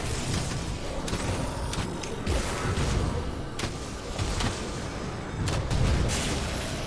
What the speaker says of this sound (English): He just breathed fire on me.